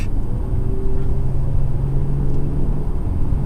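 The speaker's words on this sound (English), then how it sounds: "I'm gonna put it in e-power right now. That is purely electric." A 2018 Porsche Panamera 4 E-Hybrid driving in pure electric mode, a steady low road rumble and tire hum with a faint electric whine, no engine note, continuous and even throughout.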